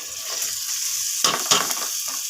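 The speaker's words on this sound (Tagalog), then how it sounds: "Lagay na natin yung ating mga gulay. Yan. Gisa na rin natin." Vegetables are sautéed with toasted onion, garlic and ginger in oil left from frying anchovies, for squash and long beans in coconut milk, giving a steady bright sizzle with two sharper bursts as food is stirred, and no talking.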